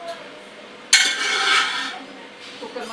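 A metal pressure cooker and pots clank in a home kitchen as boiled vegetables for pav bhaji are taken out, one sharp bright clang followed by ringing metallic scraping and a few lighter knocks.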